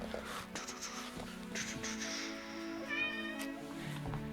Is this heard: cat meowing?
yes